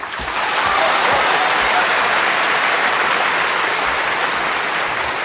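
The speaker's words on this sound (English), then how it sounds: "I'm sure there'll be a cheer, probably a roar, if this pink goes in" Loud, sustained applause and cheering from a snooker tournament crowd in the final of the 2024 International Championship, a dense roar of clapping that swells quickly and holds steady for several seconds.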